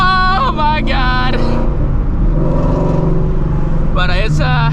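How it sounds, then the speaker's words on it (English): Steady road traffic noise from a busy street, with cars rumbling past continuously throughout, while a person talks over it at the start and again near the end. "it's a busy one, if you couldn't tell already. A lot of traffic this morning."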